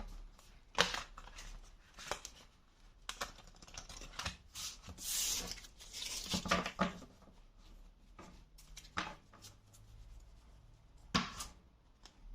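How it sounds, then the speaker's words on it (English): Quiet, irregular riffling and shuffling of tarot cards, with soft bursts and taps spread across the clip and no voices. "let's take the tarot and see what we can get. Let's just give it a good shuffle first."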